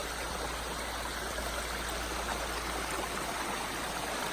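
A small trailside stream flows steadily along the Pacific Crest Trail, a soft, constant rushing and gurgling of water heard alone at moderate distance.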